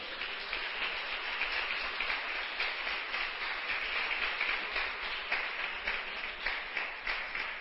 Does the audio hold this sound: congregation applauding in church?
yes